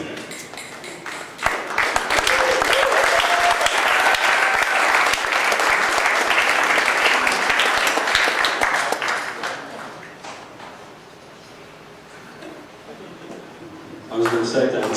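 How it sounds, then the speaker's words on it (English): Sustained audience applause after a micro talk at the IndieCade 2009 conference, a loud dense crowd clapping for several seconds that gradually thins and fades, followed by a voice speaking at the end. "too much applause for that brilliant presentation from your side"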